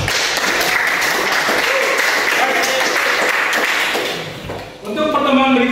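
A class in an Indonesian lesson breaks into loud, dense applause that fills the room for about four seconds, then fades as a voice begins speaking.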